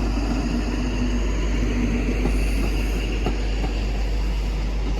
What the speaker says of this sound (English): I was not expecting the blue Midland Pullman. 43055.